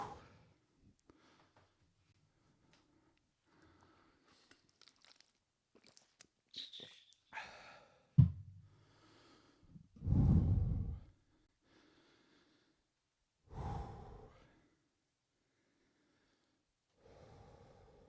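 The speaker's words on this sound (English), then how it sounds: "Sorry for the slow breathing." Heavy breathing after a workout round comes in separate loud exhales and gasps, breathy huffs and snort-like breaths spaced out by quiet pauses, close to the mic.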